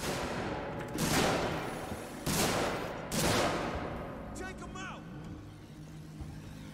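Gunfire bursts in the survival horror game Alien: Isolation, three loud broadband volleys about a second apart against a steady rumbling background, followed by quieter chirping and clanking effects.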